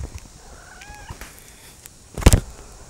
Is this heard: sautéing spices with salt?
no